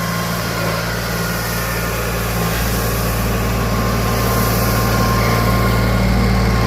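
A tractor spreading gravel drones loudly and steadily close by without a break, a deep rumble under a constant hum with no voices.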